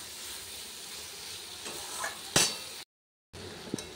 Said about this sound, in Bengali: চিংড়ি মাছটা দিয়ে আলু পটলটাকে ভালো মতন কষিয়ে নিচ্ছি